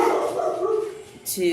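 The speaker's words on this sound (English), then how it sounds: "Please excuse my dogs." Dogs bark in a house, a couple of sharp woofs breaking over a person speaking close by, the barking brief and partly masked by the voice.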